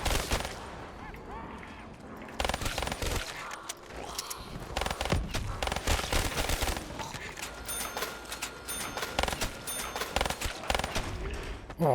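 Rapid gunfire bursts from a zombie-mode first-person shooter video game fill the whole stretch, loud and dense with repeated shots and effects, with a player talking over parts of it.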